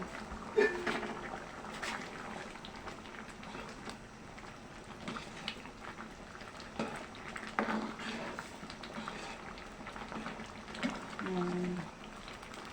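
A pot of mung bean stew with moringa leaves and chili bubbles at a low simmer, with soft patters and gurgles beneath intermittent talking nearby.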